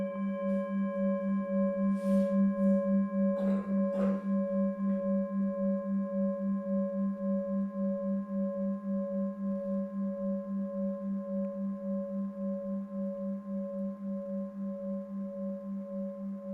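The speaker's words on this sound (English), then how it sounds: "It's the sound of the bell moving through time" A sustained bell-like tone hums steadily with a few brief rustles early on, slowly fading in loudness over the long stretch.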